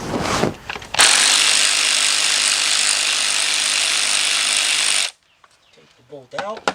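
A power drill or driver runs steadily for about four seconds, loud and close, backing out a 10mm bolt on a Kia/Hyundai engine during a timing chain replacement; someone talks briefly before and after.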